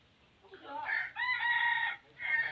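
Chickens and a rooster on a H'mong village farm crow and cluck loudly in bursts while being chased, the calls close and overlapping.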